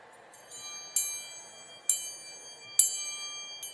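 A small hand bell rung indoors at a talk: four bright, clear rings at an even pace, each with a sharp strike and a shimmering decay, alone in a quiet room.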